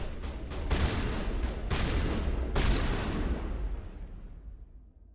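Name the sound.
assault rifle gunfire in the video game Mass Effect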